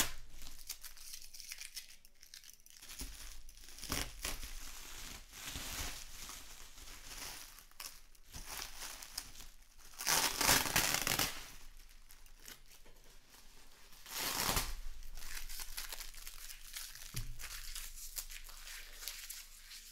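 Tearing open a heavily taped wrapper on a 2018 Leaf Memorabilia Treasury trading card case, with bursts of ripping and crinkling plastic and tape close by, the loudest rips coming in short surges between quieter rustling.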